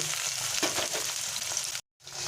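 Potato pieces frying in a pan for a vegetarian potato, pointed gourd and pumpkin curry, a close continuous sizzle with a brief silent gap near the end.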